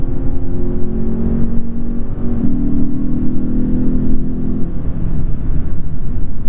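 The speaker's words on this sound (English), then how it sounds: "The road noise isn't too bad in this car." Steady road and tyre roar fills the cabin of a 2015 Lexus RC-F while driving, a continuous low rumble with a faint engine drone beneath, heard from inside with no talking.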